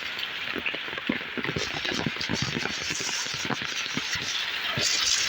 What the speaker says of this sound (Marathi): पूर्ण जोरदार पाऊस चालू आहे.